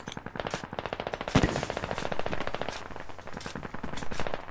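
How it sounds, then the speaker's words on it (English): Rapid machine-gun fire in the tactical shooter game Squad, a continuous rattling stream of shots with one heavier bang near the start, fairly loud and alone without talk. "Can you watch it with that machine gun, please?"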